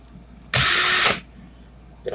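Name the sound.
power drill running in reverse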